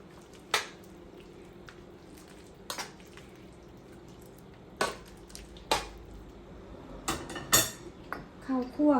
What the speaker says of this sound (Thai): เดี๋ยวคนก่อนนะคะ